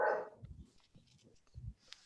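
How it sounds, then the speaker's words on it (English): A dog barks during a committee meeting, giving a few low, muffled woofs spaced irregularly and fairly faint and distant, with brief quiet gaps between them. "Apparently the dog is opposed."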